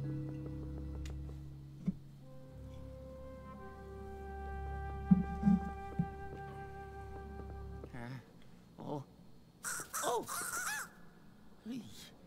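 During Luigi's Mansion 3 gameplay, cawing crow sounds, seemingly voiced by a person imitating birds, ring out in a short burst of harsh calls over sustained game music and a low hum, with brief talking near the end.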